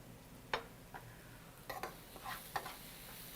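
Onions frying in a pan give a faint, low sizzle with a few soft scrapes and clicks of stirring scattered across the moment.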